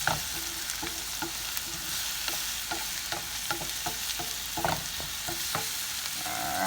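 Vegetables cook in a pan for a meatloaf sauce, a continuous moderate sizzle broken by repeated clicks and scrapes of stirring at an uneven rhythm.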